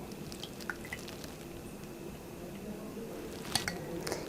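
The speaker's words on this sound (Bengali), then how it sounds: "এই যে আমি এখানে কিশমিশের পেস্ট তৈরি করে ফেলেছি এখন এটা একটা বোলের মধ্যে ঢেলে নিচ্ছি" Raisin paste poured from a blender into a bowl, quiet wet drips and squishes with a few light clinks of kitchenware, faint and close, ending with louder splats.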